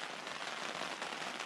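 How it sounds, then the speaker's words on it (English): Steady rain pattering on a tent during a river float trip at night, a dense even hiss of drops close overhead with no voices. "Started to rain."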